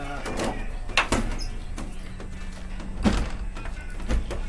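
A once-bent door is pushed in until it latches, giving a few solid thunks and knocks spaced over several seconds, fairly close, with voices partly underneath.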